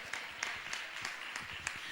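A church congregation clapping together at a state general convention, a dense continuous patter of many hands with a loose recurring rhythm, heard from within the hall.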